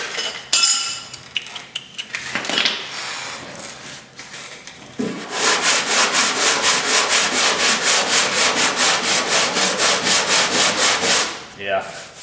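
Sheet metal being worked and cut while straightening a damaged panel, heard as a fast, steady rhythmic rasping or grinding run that starts after scattered clanks and scrapes and continues loudly for several seconds before stopping.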